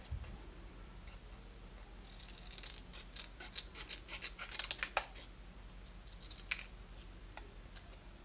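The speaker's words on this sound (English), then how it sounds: "Cutting out the sentiment with my scissors." Quiet snipping and crisp clicking of scissors cutting paper, a cluster of short sharp cuts in the middle with a few more near the end, no talking.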